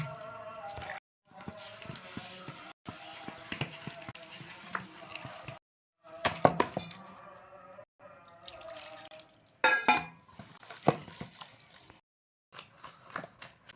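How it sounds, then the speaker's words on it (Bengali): Rice flour is beaten with a little water into pitha batter in a bowl, giving close, wet slapping and squelching strokes that come in short bursts with brief silent gaps between them. "অল্প অল্প জল দিয়ে আমি ফেটিয়ে ফেটিয়ে গুঁড়োগুলো মেখে নিয়ে একটা বেটার বানিয়ে নেব"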